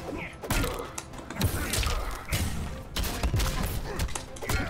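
Explosive blasts and heavy impacts ring out in a Mortal Kombat fight, a dense series of sharp booms and thuds in quick succession at close range, with no talk.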